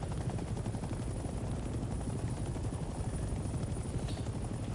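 A helicopter flies in the Vietnam-era shooter game Hell Let Loose: Vietnam, its steady rotor thump and engine roar filling the whole stretch with dense, continuous noise, while faint gunfire crackles underneath.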